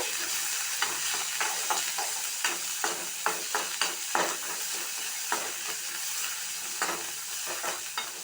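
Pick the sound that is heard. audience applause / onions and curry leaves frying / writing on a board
onions and curry leaves frying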